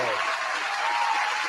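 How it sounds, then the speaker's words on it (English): Audience clapping at a live event, a dense continuous wash of applause from a crowd, steady and fairly loud for a brief moment. "Where that clap?"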